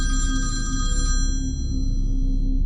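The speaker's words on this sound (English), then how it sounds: "startled awake by her phone ringing" A phone rings with a bright electronic trill over a steady low hum, the ringing cutting off about a second in while the background drone carries on alone.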